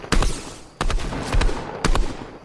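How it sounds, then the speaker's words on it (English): Video game gunfire rings out in loud bursts, several rapid volleys of sharp shots separated by brief pauses, close and dominant with no talk over them. "I hear gunshots"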